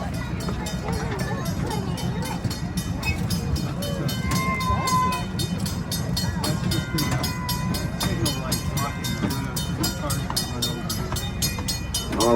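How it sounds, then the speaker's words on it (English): A small amusement park train rolls toward a mock gold mine attraction, a steady rhythmic clatter of wheels heard close under a conductor's continuous talk. "this train will be entering the oldest gold mine here in the park"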